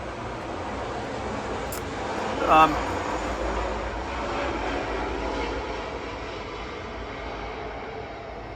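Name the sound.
C-130 fire aircraft flying overhead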